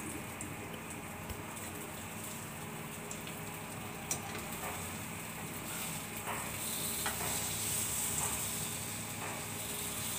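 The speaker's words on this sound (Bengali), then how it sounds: "কড়াইটা গরম হয়ে গেছে দিয়ে নিলাম তেল" Mustard oil heats in a hot wok, giving a steady, close crackling sizzle with scattered sharper pops that grows slightly louder over the stretch, with no talking.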